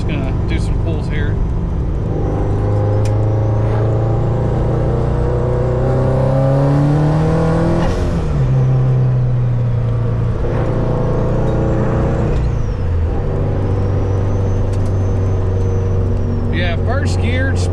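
A turbocharged Toyota FRS making about 420 wheel horsepower on low boost accelerates hard through the gears from the cockpit, its engine droning and climbing loudly with shift breaks and a turbo whine, while someone talks over it.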